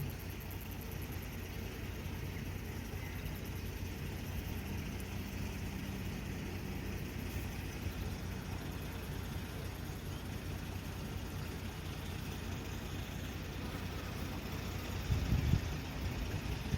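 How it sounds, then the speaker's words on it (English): A fully loaded truck rolls down a hill at a summer forestry harvest site, heard as a faint, steady, distant engine rumble under broad outdoor noise, with a brief louder thump near the end. "There's a fully loaded truck coming down the hill."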